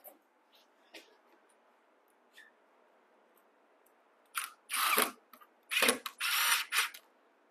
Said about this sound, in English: And then screw it in.